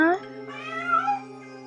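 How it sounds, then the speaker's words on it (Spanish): A young female cat gives a pair of curious, speech-like meows, fairly close, with some background sound underneath. "la gatita siempre respondía con maullidos curiosos"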